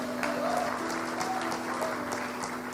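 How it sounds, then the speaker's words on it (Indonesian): Audience applause at a motivational talk, a steady dense wash of clapping held at even loudness throughout, with faint tonal hum beneath and no clear voices over it. "Tepuk tangan dulu dong buat Kak Heni."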